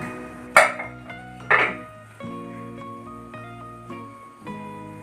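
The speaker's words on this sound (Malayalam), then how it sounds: "ഇനി കുക്കർ അടയ്ക്കുക" Metallic clanks of a lid being set and pressed onto a pressure cooker, two sharp bangs followed by lighter ringing knocks, close by with no talk.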